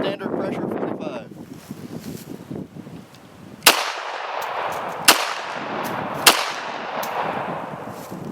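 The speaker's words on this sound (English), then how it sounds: "first up is 3 230 grain FMJs, standard pressure 45." .45 230 grain FMJ standard pressure rounds fired from an HK USP Tactical pistol outdoors, three sharp loud shots spaced about a second or more apart, following talk and set against steady wind noise.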